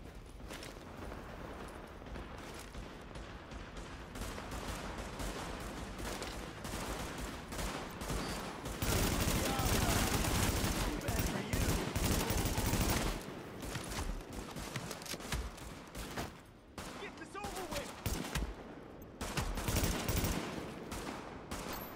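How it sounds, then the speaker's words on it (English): Gunfire in The Division on PC, dense rattling automatic bursts and sharp shots repeating almost nonstop, loud and close, with a heavier sustained volley partway through. "Warning. Supplies taking fire."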